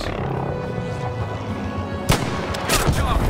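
A long-range gunshot in Battlefield V cracks sharply about two seconds in, followed by fainter shot-like bursts over a steady rumbling game backdrop.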